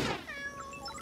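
Cartoon kittens meow in a short, high, overlapping chorus of several voices, loud and close, with no talk.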